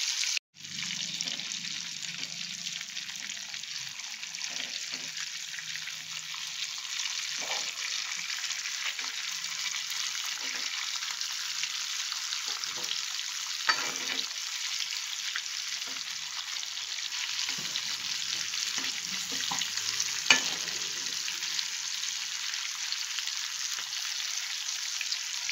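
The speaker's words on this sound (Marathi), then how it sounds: "आता हे 4 राहिलेले शेवटचं आवडं घ्या तळून." Pieces of chilapi (tilapia) fish deep-frying in oil, giving a loud, continuous close-up hiss of bubbling oil, with occasional pops and soft utensil clinks and no talking.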